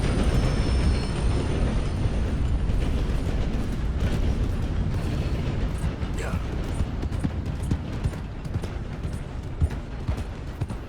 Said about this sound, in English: I guess we can wait for the train to just pass.